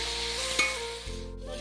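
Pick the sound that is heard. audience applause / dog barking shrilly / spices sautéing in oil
spices sautéing in oil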